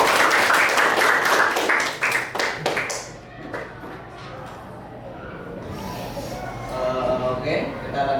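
Classroom group clapping during a teacher's performance assessment, a burst of rhythmic claps that fades into talk and room noise after about three seconds.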